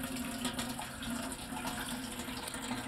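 Tap water from a faucet pours steadily into a garden watering can beside a rain barrel, a continuous close splashing stream with no talking.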